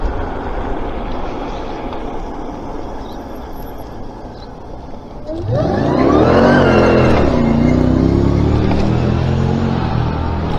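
An SUV engine swells in loudly partway through, revving hard as it passes close by over steady road and wind noise.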